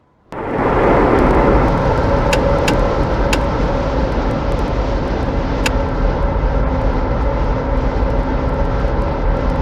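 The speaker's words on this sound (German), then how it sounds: "Germany's first jet fighter squadron is airborne" A Messerschmitt 262 jet fighter from a Luftwaffe squadron of 1944 roars overhead, a loud continuous engine drone that rises abruptly from silence and holds steady with faint clicks scattered over it.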